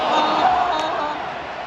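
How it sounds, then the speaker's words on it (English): Crowd noise at a Hull City versus Sheffield United football match: a steady roar of cheering people somewhat behind, fairly loud and sustained, easing off slightly toward the end. "There's some people behind me cheering"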